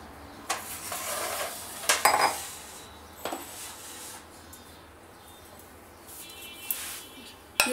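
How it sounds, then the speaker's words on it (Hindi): Ground fried makhana being mixed in a mixing bowl, quiet scraping and rubbing broken by several clinks and knocks of a spoon against the bowl, with soft clatter near the end. "अब इसे हम एक मिक्सिंग बाउल में मिक्स करेंगे"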